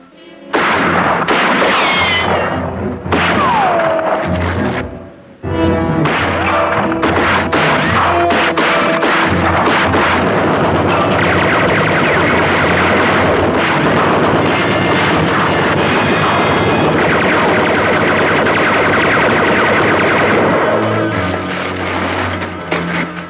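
A Gatling gun in a western TV series fires in long, loud, sustained bursts with crashing impacts and a brief lull near five seconds, mixed with dramatic score.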